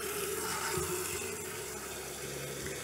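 Tap water running steadily into a kettle in a home kitchen during home beer brewing, a continuous broadband rush with a faint hum beneath and no talking.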